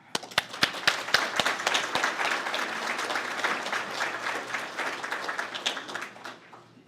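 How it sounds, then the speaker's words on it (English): At a volunteer awards event, a few sharp individual claps quickly build into full audience applause that holds steady for several seconds, then tapers off with scattered final claps. "Join me in applauding her efforts for today's event"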